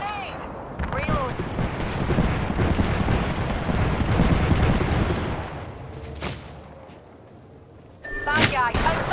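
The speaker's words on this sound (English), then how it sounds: "Grenade!" A grenade blast in Apex Legends lands amid gunfire and in-game voice callouts, a loud burst of explosive noise swelling in the middle before fading, then more shots and chatter.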